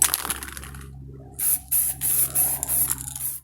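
Spray paint hissing onto a Honda CB200 motorcycle fuel tank in several short bursts, loud and close, with a low steady hum underneath.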